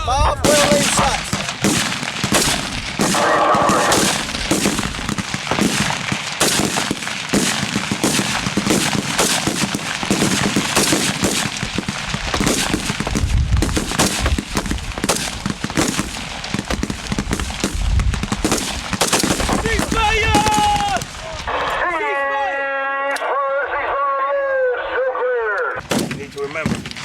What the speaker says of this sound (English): Sight in. 5 well-aimed shots. 5 well-aimed shots.